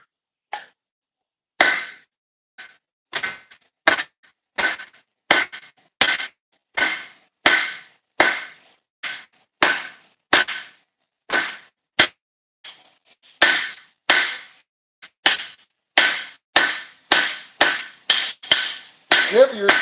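Hot steel is hammered on an anvil to draw out a taper, with sharp ringing blows struck one after another in a quick, steady rhythm and a few brief pauses between bursts.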